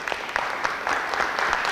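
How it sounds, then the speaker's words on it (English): A class in a Cree language lesson gives a round of applause, a dense, even patter of many hands clapping at close range for under two seconds. "Give him a round of applause."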